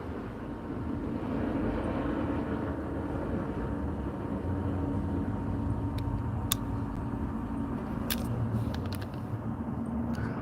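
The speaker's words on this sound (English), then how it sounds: "See, they flying under the clouds. It's a helicopter." A helicopter flying low under the clouds gives a steady, distant rumbling drone that holds evenly throughout, with a few faint sharp clicks near the end.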